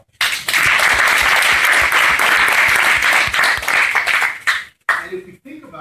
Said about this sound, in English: So round of applause for that accomplishment.